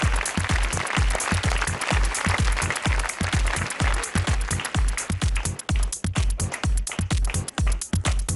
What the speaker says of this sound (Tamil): கைத்தட்டலாம் நம்ம.